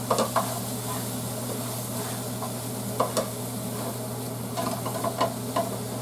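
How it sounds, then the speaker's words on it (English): Sausage for penne arrabiata fries in a pan with a steady low sizzle, while a utensil stirs and scrapes in a few scattered clicks and scuffs at close range; nobody speaks. "we want to fry this for a little bit. So it says to mix this all up."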